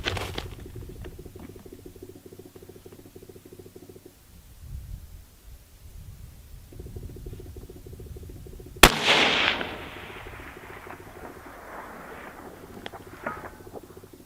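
A .308 rifle fires at a steel target at 1050 yards, with one loud, sharp shot midway through and its decaying echo. The distant hit on the steel is only faintly audible, if at all, over quiet background rumble.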